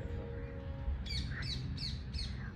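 Four quick squawking bird calls in the morning at Sultanpur Bird Park repeat at an even pace over a steady outdoor background hum, moderately near.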